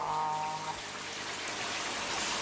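Rain pours from a rain cloud in a cartoon, a steady, even hiss of falling water that fills the short moment with no voices over it.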